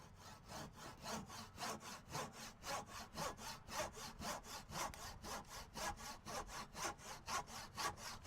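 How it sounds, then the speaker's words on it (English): Handsaw cutting wood for a gate latch, a steady rhythmic rasp of regular back-and-forth strokes, close and alone without talk. "Didn't think I could use a handsaw, did you?"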